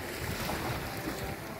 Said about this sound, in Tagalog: Tama lang yung alon.